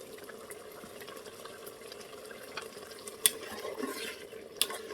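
Crushed garam masala being stirred into a handi of dhaba-style chicken dal chana gravy, a steady low simmer with soft scraping strokes and a couple of sharp spoon clinks on the pot near the end.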